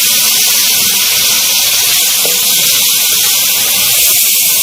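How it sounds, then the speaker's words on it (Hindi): Garlic-ginger paste frying with onions for chicken tikka masala, a steady loud hiss of sizzling oil filling the clip with no talk. "लहसुन अदरक के पेस्ट को भी हम प्याज के साथ अच्छे से भूनेंगे"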